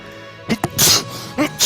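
A sneeze bursts out close to the mic, a sharp double-burst blast followed by a second sneeze a moment later, with brief breathy noise between.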